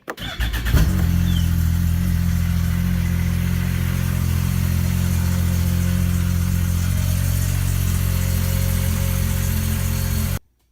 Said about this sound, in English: we'll go ahead and crank it over and fire it up